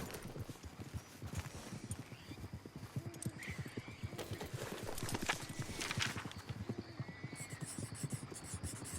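Horse-drawn wagon rolling along a dirt track in the video game Red Dead Redemption 2, with steady clip-clop of hooves and a brief whinny over continuous wheel rumble, fairly close and clear with no talk.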